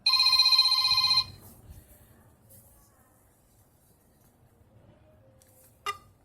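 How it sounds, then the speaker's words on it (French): An Oukitel U7 Pro phone rings loudly with a bright electronic trill for about a second, then near silence, ending with a short sharp blip. "Sonnerie du téléphone."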